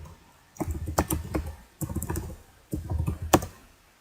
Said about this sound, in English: Just going to quickly type it down here.